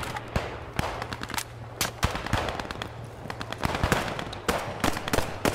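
Rapid bursts of automatic and single-shot gunfire from the World War II shooter Post Scriptum, fired continuously in uneven volleys that mix near and more distant shots, with no talk over them.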